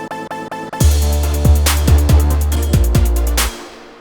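A trap-style synth with an automated retrigger effect stutters quickly at first, then slows, over repeated booming bass hits and crisp high percussion, loud and with no voices.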